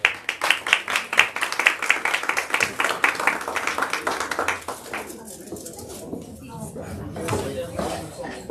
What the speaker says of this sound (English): Can we clap again for him